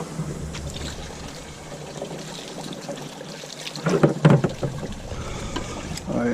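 Chunks of jack crevalle fish are rinsed under running water, making a steady splashing trickle and hiss close by, with a brief burst of louder sloshing and handling partway through.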